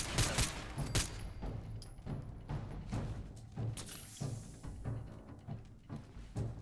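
Rapid bursts of gunfire in the video game Fallout 4, sharp repeated shots in quick volleys with a few heavier thumps, fairly close and steady throughout.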